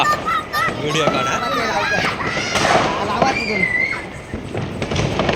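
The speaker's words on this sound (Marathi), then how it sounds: "छोटे छोटे मुलं सगळे फटाके फोडत आहेत" Firecrackers burst at a Lakshmi Puja celebration while small children play, with crackling pops and a sharper bang amid busy nearby chatter and excited voices.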